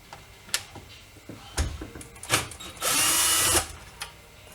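Power drill running briefly on dash panel screws inside an R33 Nissan Skyline, one sustained whir of about a second among scattered clicks, taps and handling knocks of trim, close and fairly loud with no talk.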